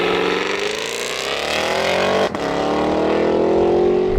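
A 6.75-litre twin-turbo V12 car with 570 horsepower drag racing a Cadillac Escalade V-Series over a standing quarter mile, engine roaring loudly and rising in pitch through hard acceleration, with a brief gearshift dip midway.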